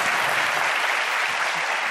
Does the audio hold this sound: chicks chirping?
no